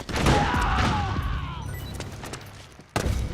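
Gunfire and explosive booms from the video game Metal Gear Solid 4, a loud close burst fading over a couple of seconds before another sharp blast near the end.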